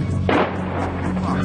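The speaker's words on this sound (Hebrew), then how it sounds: "כשלפתע נורו מבית מן הצד הלבנוני יריות שמביאות לפציעתו של הסוכן" A sharp gunshot fired from a house on the Lebanese side, a single loud crack with a short decay over steady background hum.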